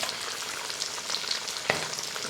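A pot of homestyle Kerala sardine curry bubbles and simmers on the stove, with a steady soft sizzling crackle and one brief clink partway through.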